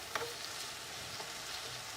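Teriyaki tempeh pan frying gives a steady, soft sizzle and crackle throughout, with a few faint pops and light stirring scrapes close by and no talking.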